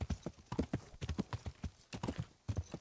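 Quick, uneven clip-clop of horse hooves trotting close by in the video game Kingdom Come: Deliverance, with a brief whinny-like sound mixed in; no one speaks.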